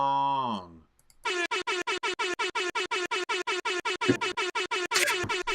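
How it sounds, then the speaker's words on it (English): Soundboard air horn on a live podcast stream: a falling horn tone, a short gap, then a long run of rapid, evenly spaced loud blasts, with a few extra bursts near the end. "Sound effect of the year, air horn."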